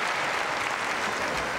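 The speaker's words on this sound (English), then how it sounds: "but the crowd encouraging." Applause from the arena crowd at a 1991 gymnastics competition, a steady dense wash of clapping throughout, loud and continuous with no gaps.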